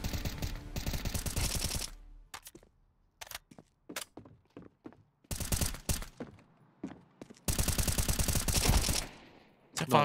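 Bursts of automatic gunfire from a shooting video game, with loud sustained volleys at the start, the middle and the end, and scattered single shots between them.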